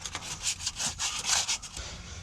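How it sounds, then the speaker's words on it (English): Sandpaper scrubbing old foam off the rim of a repurposed water tank, quick repeated rasping strokes close up, rhythmic and fairly loud with no voices. "Just gonna take a piece of sandpaper here, sand around the perimeter of this thing and get all that old foam off of it."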